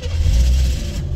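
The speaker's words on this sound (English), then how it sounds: "Car starts right up." Corvette engine starting, a loud low rumble that swells quickly and then settles within about a second, close by with no voices.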